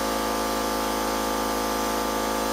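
An air compressor runs in a workshop, a loud, steady, continuous mechanical drone with a constant hum, close by and unbroken throughout with no voices.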